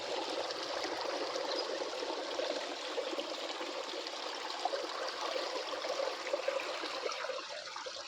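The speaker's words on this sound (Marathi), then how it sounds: "पूर्ण पाणी येते" Water rushes steadily along a field channel on a farm, a continuous soft, even flow with no voices.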